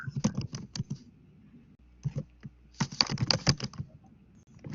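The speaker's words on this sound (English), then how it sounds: "I can hear you typing" Typing on a computer keyboard in quick bursts of clicks separated by a brief pause, close and clear.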